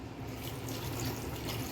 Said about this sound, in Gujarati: હવે આમાં આપણે સેજ પાણી એડ કરી દઈએ